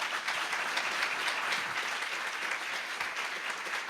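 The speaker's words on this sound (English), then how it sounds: "Round of applause." Applause at a community reception honoring a police chief, a dense steady roar of many clapping hands that holds evenly throughout without a break.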